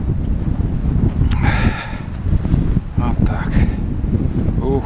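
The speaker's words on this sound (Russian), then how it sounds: "ветрище-то, блин. Прям гнет, как деревья сегодня, вон, видите." Strong gusting wind in snowy taiga forest, roaring steadily through the trees and buffeting the microphone, loud and close, with someone briefly speaking over it.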